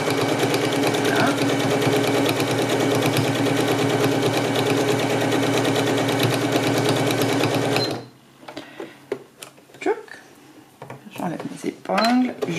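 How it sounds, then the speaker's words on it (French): A sewing machine stitches along the edge of a fabric mask in a long, steady, close run of rapid needle strokes that stops abruptly, followed by quiet handling sounds and talk. "On va coudre au bord. la marche arrière peut bien vous fixer."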